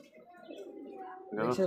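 Pigeons at a breeding farm of Danish and racer birds coo softly and low with a rolling, throaty tone, and a nearby voice comes in toward the end.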